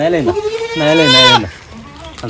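Malabari goat bleating close by while being hand-fed leaves, a few wavering harmonic bleats, loud and near, with a person speaking around them.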